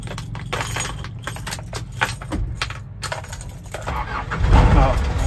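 A car key jangles on its ring and is turned in the ignition of a car that has not started in almost a month, giving scattered clicks and rattles but no engine catch, with faint background voices.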